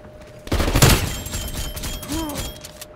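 Gunfire in the video game Call of Duty: Black Ops Cold War comes as a loud, close burst of shots around the half-second mark, followed by quieter game sounds and a faint rising tone.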